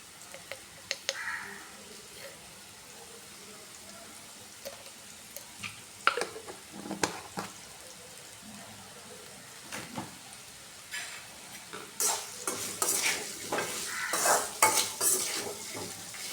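Raw banana pieces being stirred as they fry in a pan for a vazhakkai roast, with soft intermittent scrapes and clinks of a spoon over a faint sizzle, growing busier and louder toward the end.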